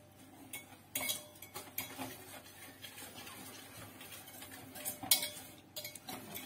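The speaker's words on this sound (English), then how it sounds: "And I'll just give this a nice whisk." A whisk clinks and scrapes quickly and unevenly against a glass bowl while a baking mixture is beaten, with close, sharp metallic ticks and a few louder strikes.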